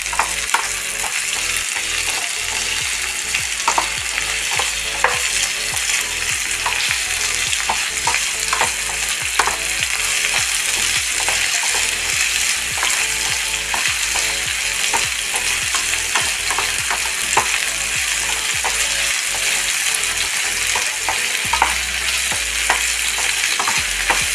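Curry leaves frying with a steady, loud sizzle while a utensil stirs them round the pan, scraping and clinking at irregular intervals, close up for the whole stretch with no talking.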